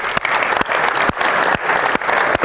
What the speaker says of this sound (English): But I do want to have an applause for the players.